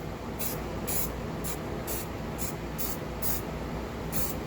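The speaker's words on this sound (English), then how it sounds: "Okay, now for a coat of rattle can on the top." Short bursts of spray paint from a rattle can hiss onto the roof of an HO scale model trolley car, about eight quick, evenly spaced sprays close to the listener, with nobody talking.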